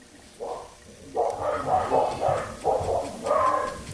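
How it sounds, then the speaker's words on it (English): Several dogs bark and yip at a passerby, a string of muffled, moderately distant barks in uneven bursts inside a home, with no talk over them. "Oh, it sounds like somebody's walking by, so the dogs are freaking out."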